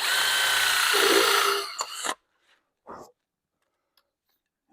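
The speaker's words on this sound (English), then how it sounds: "length of the drill bit so that I get full penetration for my pilot" A drill bores a pilot hole for a spline-cutting jig, a loud whirring burst of about two seconds that winds down, followed by a couple of faint knocks.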